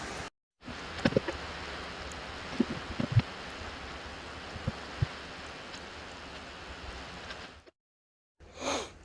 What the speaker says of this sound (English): just waiting for this rain to ease up a bit more